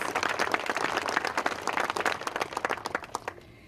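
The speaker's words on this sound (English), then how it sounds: "I'd really like to give her a round of applause" A crowd at a safety center groundbreaking applauds Anita Lopez with brisk, fairly close clapping that holds steady and then thins and trails off near the end.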